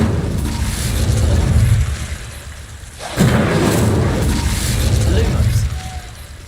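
Incendio fire spell cast in Hogwarts Legacy, a roaring, rumbling whoosh of flame that dips briefly before surging again with a crackling burst, continuing loud to the end.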